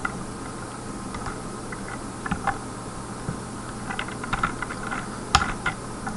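C code goes in on a computer keyboard as sparse, soft keystrokes and small clusters of taps. They sound faint over a steady low room hum, with no speech.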